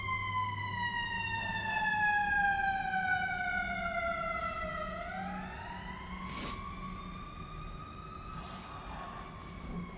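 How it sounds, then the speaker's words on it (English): A fire truck siren wails nearby, its pitch sliding down then rising again in a long sweeping cycle, with faint clicks and thumps underneath. "fire truck."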